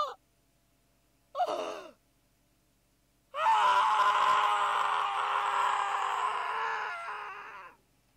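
A long, loud anguished scream from a Steins;Gate video game character sustains for about four seconds, preceded by two short sharp gasps, with no other sound around it.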